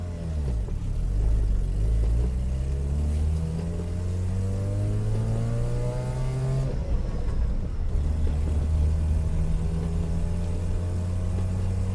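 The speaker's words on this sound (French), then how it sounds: "Voilà, il y a un tracteur." A tractor engine drones at mid distance, its pitch climbing steadily for several seconds, then dropping abruptly before settling into a lower, steady hum.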